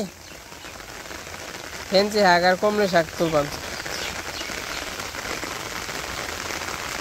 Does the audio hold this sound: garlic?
no